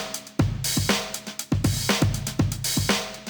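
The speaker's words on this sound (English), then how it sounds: "I have a break sample loaded up on an audio track that sounds like this." A sampled drum break loops in Ableton Live, punchy kicks and snares with busy hi-hats and cymbal wash, a tight groove repeating at a steady tempo, loud and upfront with no voices.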